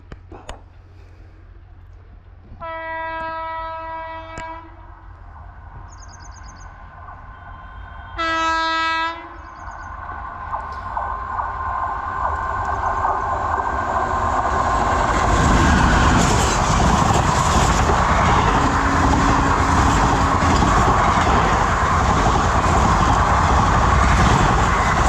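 A train passing during a farmers' rail-blockade protest in India, opening with two loud sustained horn blasts, then a rising rumble and clatter of cars that swells near and stays loud to the end, with no speech over it.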